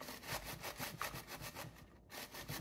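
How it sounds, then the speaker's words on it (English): Cabbage being grated by hand on a box grater for coleslaw: a quiet, rhythmic rasping scrape, stroke after stroke at an even pace, close and alone. "we're going to grate the cabbage, the onion, the carrot,"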